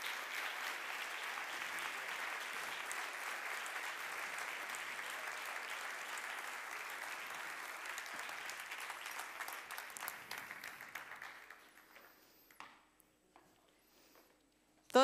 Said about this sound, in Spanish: Un fuerte aplauso para ellos también.